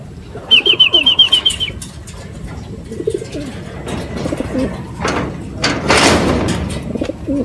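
A racing pigeon lands at its loft during a race, with a quick burst of wing flapping followed by softer fluttering, shuffling and a louder rustle near the end, close by with no talk.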